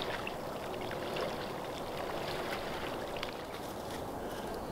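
Continuous sloshing and splashing of river water as a person scrambles out after capsizing a canoe in freezing weather, steady and close, with no voices.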